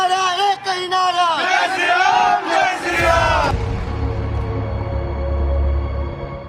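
A large crowd outside a hotel chants slogans loudly in unison for about three seconds, then the chanting gives way to a low rumbling murmur of the gathered mass.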